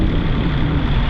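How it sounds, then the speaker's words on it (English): A David Brown 880 Selectamatic tractor ploughing at a farm ploughing tournament gives off a steady, loud diesel engine drone with a broad rumble, close by and without speech. "We'll just catch a David Brown as it comes down here to my right."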